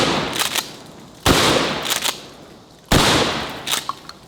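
Gun firing at melons outdoors, two loud sharp shots about a second and a half apart, each with a sudden blast and echoing decay, plus smaller impact cracks in between.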